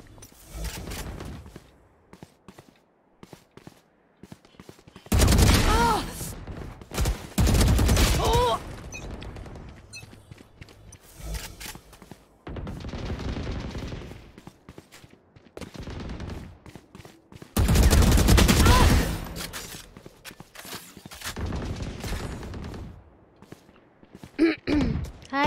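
Gunfire in the video game Valorant comes in several loud bursts of rapid automatic shots, separated by quieter stretches with faint movement and game sounds.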